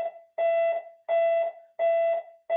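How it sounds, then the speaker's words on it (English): A building fire alarm sounds in repeated electronic pulses, each a loud steady tone of under half a second separated by short gaps, clear and alone. "we have a fire alarm"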